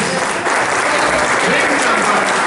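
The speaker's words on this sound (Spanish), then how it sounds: "un aplauso para todos estos jóvenes" An audience in the Jorge Eliécer Gaitán theatre claps steadily and loudly for a group of young stage apprentices, a dense wash of applause with no break.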